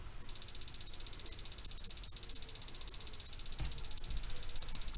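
Fast, tightly repeated hi-hat pattern programmed in FL Studio, a rapid steady stream of crisp ticks running continuously, moderately quiet with a low rumbling layer beneath and no talking.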